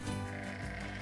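A sheep bleats in the NieR Replicant video game, a single nasal, wavering bleat that carries clearly for about a second over soft background sound.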